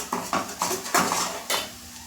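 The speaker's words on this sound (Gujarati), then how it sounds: "ડુંગળીની પેસ્ટ હતી તે આપણે તરત જ એડ કરી લેવાની છે" Onion paste goes into a hot pan for a restaurant-style shahi bhindi masala, bringing a quick run of close metallic clinks and scrapes of a spoon against the pan over a faint sizzle.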